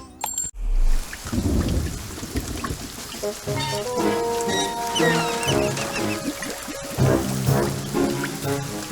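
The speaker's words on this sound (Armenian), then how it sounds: "3 օր է, այս անձրևը չի դադարում։" Animated cartoon storm: a sharp thunder crack opens the scene, followed by steady rain as music rises and continues over the downpour.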